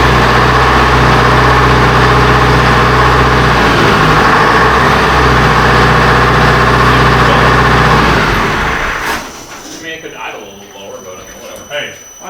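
Detroit Diesel 453 engine on a dyno, idling as a loud, steady low drone that cuts off near the end, leaving quieter room noise and scattered thumps.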